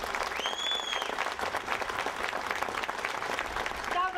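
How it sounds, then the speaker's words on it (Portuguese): A crowd at a Portugal Day ceremony gives sustained, lively applause, many hands clapping close by. A brief whistle-like tone rises briefly early on. "Uma grande salva de palmas."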